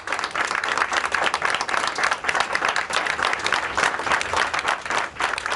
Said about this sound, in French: À la sortie, Laurence Ferrari, applaudie par la rédaction, ne peut retenir une larme.